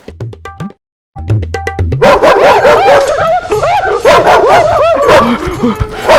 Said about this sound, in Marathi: बाबा जिन्यात तर कुत्रा आहे आता वर कसं जायचं